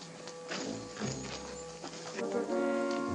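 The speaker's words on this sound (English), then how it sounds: "Get these horses out of here, Warlock, and this one and that one." Several horses shift and clip-clop on a barn floor in a 1940 Western, hoof knocks scattered irregularly over a busy, mid-distance background with no voices.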